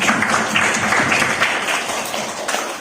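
Steady audience applause at a school opening ceremony for an in-house training event at SMPN 17 Malang, continuous dense clapping at moderate loudness throughout.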